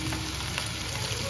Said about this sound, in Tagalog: Piniprito-prito lang muna ng konti ni Mama Beth.